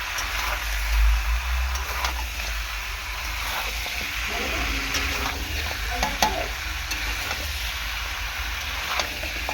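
Mutton and potatoes sautéing in a pan, a dense continuous sizzle with frequent stirring scrapes and a few louder clanks, with no talking.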